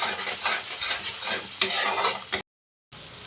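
Masala for malai prawn curry is stirred and sautéed in a pan, with a spatula scraping rhythmically over a soft sizzle before a brief silent gap and a return of the frying hiss.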